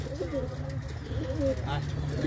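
Pigeons arriving by vehicle at Inani beach in Cox's Bazar coo in low, rolling phrases close by, steady and continuous, while a person speaks over them.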